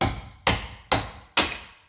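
Four evenly spaced, sharp metallic hammer blows ring out up close during a brake rotor and pad job on a 2013 Hyundai Santa Fe Turbo Sport, each strike decaying briefly before the next.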